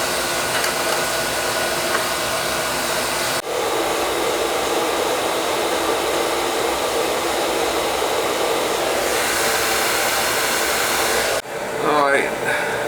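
An oil burner on a Viessmann boiler, fitted with a new nozzle and reset pump pressure, fires with a steady, even roar and no sputtering, close and continuous, broken by a brief thump near the end.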